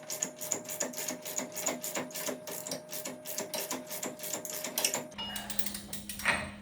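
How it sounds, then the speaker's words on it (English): A nut is run down onto a 2001 Ford Ranger front hub with a rapid, steady train of close mechanical clicks for about five seconds. It stops, and quieter handling noise follows. "we're going to run this nut down just a little bit"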